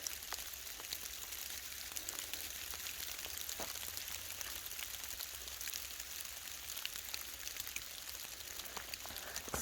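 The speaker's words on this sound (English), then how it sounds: "Oh, it's not rain, it's sleet." Sleet falls steadily outdoors on an Appalachian Trail hike, a faint, dense patter of icy pellets bouncing and ticking on surfaces, continuous and even throughout with no talk.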